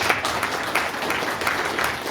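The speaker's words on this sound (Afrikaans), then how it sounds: "jy kan vir julle 'n lekker hande klap gee." Crowd at a church gathering after a 5 km run applauding, steady dense clapping from many hands, moderately loud and sustained throughout.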